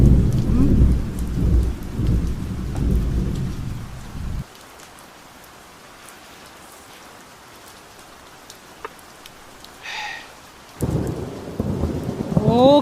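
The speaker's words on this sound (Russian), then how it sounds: "О, какой гром!" A jungle thunderstorm: deep rolling thunder rumbles loudly, then breaks off into quieter steady rain with scattered drops before another heavy rumble surges back in.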